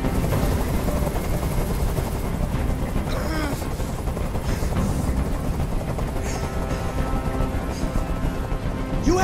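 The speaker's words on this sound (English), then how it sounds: "Tell that helicopter to get out of here!" A helicopter hovers in the video game Detroit: Become Human, its dense rotor chop thrumming loudly and continuously, with some brief sharper bursts and faint game voices mixed in.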